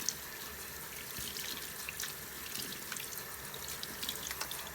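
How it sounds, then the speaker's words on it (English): A sink faucet runs while hands are rinsed under lukewarm water, a steady splashing stream with small irregular spatters and no voices. "And then rinse without touching any of the faucets."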